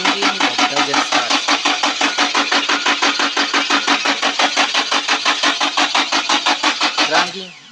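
A Nissan X-Trail engine cranks steadily in a fast, even rhythm for several seconds without catching, loud and close, then stops.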